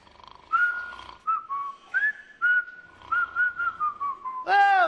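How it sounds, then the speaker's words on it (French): A person whistles a short wavering tune alone, the notes sliding up and down close by, with a louder, brighter burst at the end. "Faut juste siffler."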